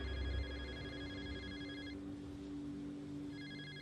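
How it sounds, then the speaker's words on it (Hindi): A phone rings with a repeating electronic tone, fairly faint. One ring runs for about two seconds, then after a short gap the next ring begins, over a low background hum. "उसी समय समीर का फोन बज पड़ा।"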